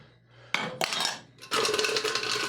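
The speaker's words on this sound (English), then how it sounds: "Give this a little stir" A bar spoon stirs a rum and champagne-acid cocktail in a glass, making two short bursts of bright, rapid clinking and swirling, close up with no talking.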